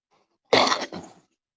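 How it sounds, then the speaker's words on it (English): A single close cough, a sharp burst followed by a quieter second push, then silence. "I'm coughing"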